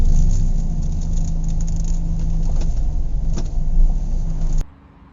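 A car drives down the main street of the small town of Kangaroo Valley, a steady engine and road rumble heard from inside, continuous until it cuts off abruptly near the end.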